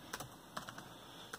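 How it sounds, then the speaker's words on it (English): Faint typing on an Asus C300S Chromebook keyboard, a few soft key clicks in quick irregular bursts over quiet background hiss. "Sometimes, no, I'm typing the right letters."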